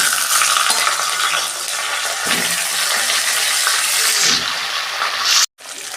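Fish sizzles in hot oil in a wok, a loud, steady hiss and crackle that holds continuously, then cuts off abruptly near the end before the sizzle briefly resumes.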